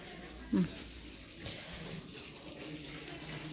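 A tap runs steadily indoors, a continuous splashing hiss of water into a sink or basin, with a brief knock near the start and no voices over it.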